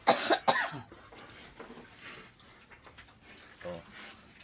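A person coughs sharply two or three times right at the start, close and loud, followed by quieter indistinct background sounds and murmuring.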